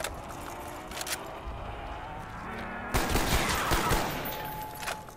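Bursts of rapid gunfire crackle in the Call of Duty: Black Ops video game, growing denser and louder in the second half, with faint game ambience between volleys.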